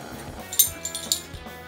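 A set of measuring spoons clinks together in a kitchen, a few light metallic taps close up in quick succession.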